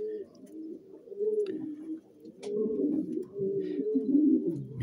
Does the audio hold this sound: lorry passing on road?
no